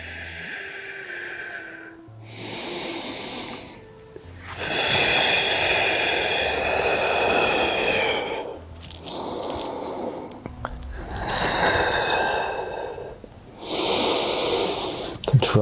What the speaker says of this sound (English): Deep nasal breaths in.